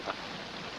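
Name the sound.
rain falling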